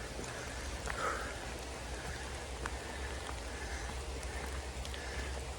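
Steady rain falls outdoors in the mountains, a soft, even hiss with scattered faint drips, low and continuous with no voices.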